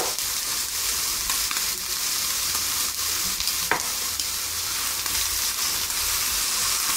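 Scallops searing in a hot frying pan give a steady, loud, close sizzle that stays constant throughout, with faint stirring and clicking touches on top.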